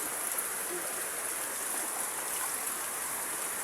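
Heavy rain pours down in Payatas, a dense, steady roar of water that fills the whole scene without letup.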